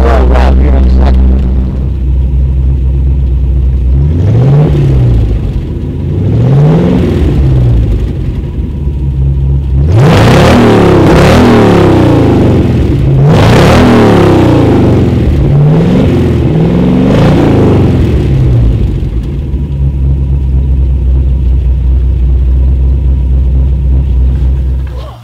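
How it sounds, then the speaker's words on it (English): Project truck engine with the muffler removed, a loud raw exhaust idling throughout, rising in a couple of short blips and then a series of harder, longer revs before settling back to a steady rumble. "I'll give you a little rev here in a second."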